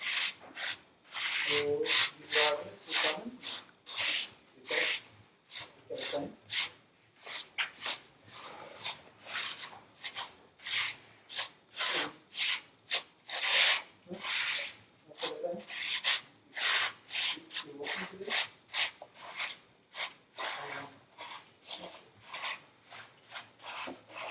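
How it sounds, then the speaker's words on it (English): A rigid plastic Bondo knife spreads slurry across a concrete countertop, making rhythmic, close, raspy scraping strokes that repeat steadily with brief pauses between passes. "I like to use Bondo knives to the slurry, because then the Bondo knife is plastic, it won't hurt it, but it's rigid enough."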